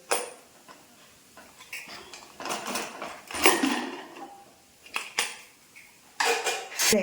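A pressure cooker of cooked sambar vegetables being opened: irregular metallic clanks and scrapes of lid and pot, loud and close, in uneven bursts with short quiet gaps.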